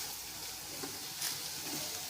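Red chili powder frying in hot oil for a spicy Savji vegetable curry, a dense continuous sizzle with faint stirring movement, close and steady throughout.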